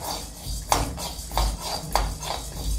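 Chana dal being roasted in a pan, with dry lentils scraped and stirred in a rhythmic series of soft rattling scrapes and a few clinks of a utensil against the pan, close up and fairly quiet.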